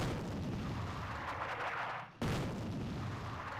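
Artillery fire in the strategy video game Attack at Dawn: North Africa, a steady rumbling barrage of booms that cuts out sharply for a moment before resuming, with no talk.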